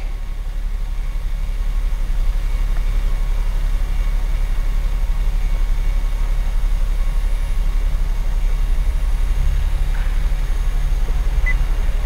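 Steady low engine drone from a Nissan Kicks e-Power petrol engine running to charge the battery, heard from inside the cabin as a constant, fairly loud hum with no talk.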